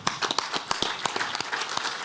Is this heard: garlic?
no